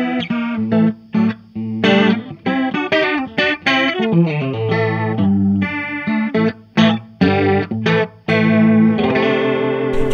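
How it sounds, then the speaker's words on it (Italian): An electric guitar runs through an old Arion stereo chorus pedal set fairly fast, playing a melodic phrase of shimmering, warbling notes with slight grit, close and loud with no talking. "Un'altra modulazione è questo vecchio Arion, stereo chorus della Arion, regolato abbastanza veloce."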